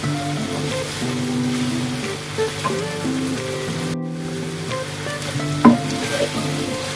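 Onions fry to light brown in a pan for a wing korma, giving a steady close crackling sizzle with occasional stirring scrapes and one brief pause, with no talking.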